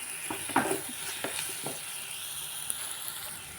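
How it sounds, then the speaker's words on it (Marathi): Garlic paste fries softly in a pan for a potato and pointed gourd dry curry, giving a faint, low sizzle with a few scattered crackles and light scraping; no voices. "लसूण पेस्ट टाकायचं दोन मिनटं मस्त फ्राय होत असेल"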